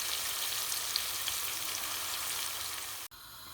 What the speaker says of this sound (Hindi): यहाँ मैंने एक प्याज काट कर फ्राई करने रख दी है